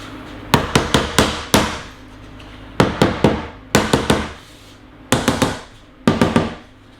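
Sharp hammer blows knock pedal board parts into place, striking wood in quick clusters of three to four, pausing between groups, loud and close with no speech.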